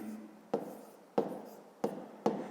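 Pen strokes scratching on notebook paper as a sum is written down, with four distinct sharp taps or stroke onsets spaced regularly, close and fairly quiet with no talking.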